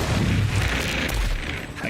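A shotgun firing in the Borderlands 3 shooter game: a loud, dense booming blast with rumbling gunfire texture, filling the short moment without any talk.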